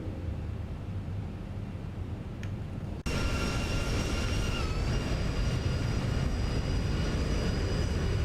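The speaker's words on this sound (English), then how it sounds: "Alright, gears coming down." Landing gear extending on a Zibo Boeing 737 in X-Plane 11, a sudden loud rise in broadband airflow rumble with whining tones as the gear drops, then a steady roar continuing alone.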